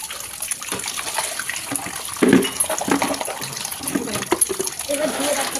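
Water poured over snails held in a thick basket during cleaning for cooking, an uneven splashing and gushing that swells in bursts, fairly close and alone.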